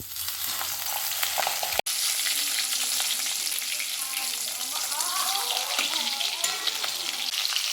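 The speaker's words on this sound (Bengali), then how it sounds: "তেলটা গরম হয়ে গেছে, এবার আমি মুড়োটা ভেজে নিচ্ছি" Fish head seasoned with chili and turmeric frying in hot oil, a steady loud sizzle with crackling spatters running throughout, briefly cut off near the start then resuming.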